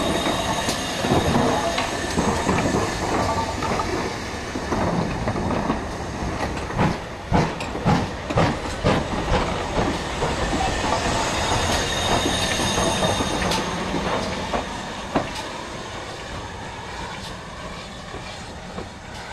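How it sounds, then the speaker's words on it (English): A Great Western Railway Castle class steam locomotive rumbles past with clattering wheels and sharp squeals, continuous and fairly loud, with irregular metallic clicks over a steady roar. "The next steam locomotive of the Great Western Railway is this one"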